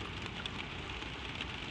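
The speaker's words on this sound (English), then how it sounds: "the rain runs down the window." Steady rain patters continuously against a window with a soft hiss and scattered faint drips, even and unbroken, no voices.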